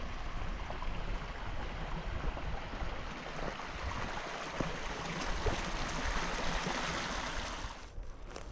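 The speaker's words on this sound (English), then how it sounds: "not a whole lot going on other than some river noises" Steady rushing river noise from the Black Canyon of the Yellowstone fills the scene, a broad continuous wash of flowing water that stays even and unbroken throughout, with no voices.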